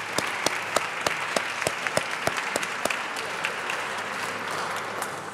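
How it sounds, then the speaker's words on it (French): A gathering at a dean's start-of-year coffee-break speech applauds a new team, with steady crowd clapping overlaid by a few sharp, distinct nearby claps ringing out at a quick irregular rhythm. "On les applaudit."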